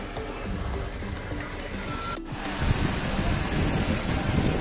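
Sea surf rolling in at Shrivardhan beach, a steady broad wash of breaking waves with wind buffeting the microphone, swelling louder about halfway through and staying close and continuous.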